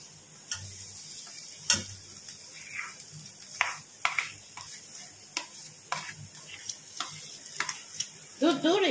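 Potatoes frying in oil for aloo paratha, a low sizzle under repeated sharp ticks and scrapes from stirring, with a brief voice near the end.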